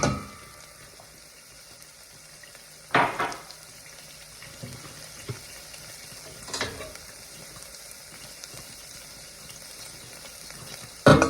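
A cup of water goes into a pan of grits cooking with jalapeno oil and pepper, bringing a low, constant sizzle broken by a couple of sharper splashing bursts, with no voices.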